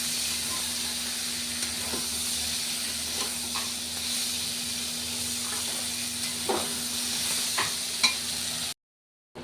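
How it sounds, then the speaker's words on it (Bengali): Bottle gourd greens, potato and eggplant are fried with mustard paste, giving a soft continuous sizzle and hiss with a low steady hum and occasional light stirring clinks, cutting off abruptly at the end. "লাউ শাক আলু বেগুন সব ভাজা হয়ে গেছে এবার সর্ষের বাটিটা দিয়ে একটু কষে নেব"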